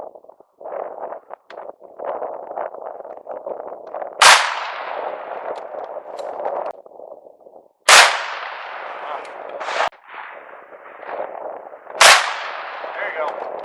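Three loud, sharp black powder rifle shots ring out a few seconds apart at an outdoor field shoot, each with a short trailing echo, while people talk quietly between them.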